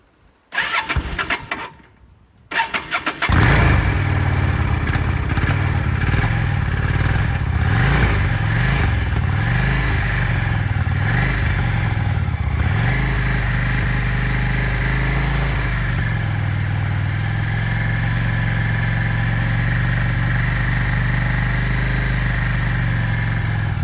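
A 2004 Yamaha V-Star 650 motorcycle engine cranks and catches after a brief pause, then settles into a steady, loud, close idle with a low rumble that evens out over the following twenty seconds.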